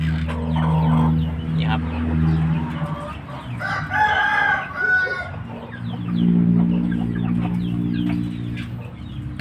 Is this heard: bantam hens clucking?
yes